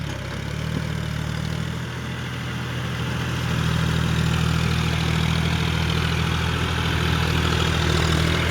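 A John Deere 5045 4WD tractor on normal tyres works through a muddy field, its diesel engine a steady low rumble that grows slightly louder partway through, continuous and close.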